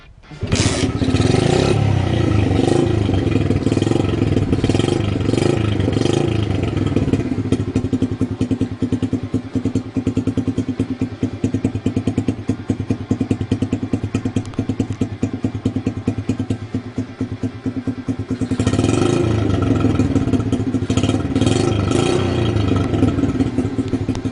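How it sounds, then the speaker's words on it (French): A Dax motorcycle with a strange noise from its swingarm runs at idle, a loud, steady, clattering engine drone that fills the clip and swells with a few revs at the start and again near the end. "le bras oscillant fait un bruit bizarre"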